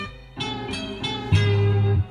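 Hip hop beat playing back from a home recording setup, a short loud loop of thumping bass and snappy percussive hits in a steady rhythm.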